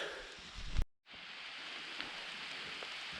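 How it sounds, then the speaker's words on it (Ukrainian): Steady rain falling in the mountains, a soft even hiss with faint pattering drops, briefly cut to near silence before resuming at a constant moderate level. "Ми сьогодні поїхали в гори і почався дощ"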